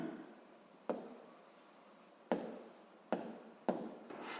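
Handwriting on paper while physics notes are taken in a classroom lesson, heard as a soft continuous scratching with a few sharper pen strokes and taps, fairly quiet and close.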